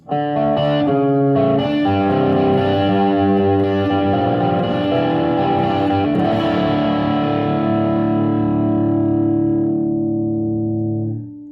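Electric guitar through a Plimsoll overdrive pedal plays a sustained, gritty chord sequence that rings out and slowly fades at the end; no talking.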